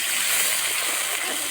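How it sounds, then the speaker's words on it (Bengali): Spiced water from ground spice paste is poured into a pan of brinjal along with turmeric and salt, making a short, steady watery splash and hiss throughout. "তার মধ্যে মশলা বাটা জলটা দিয়ে দেবো।"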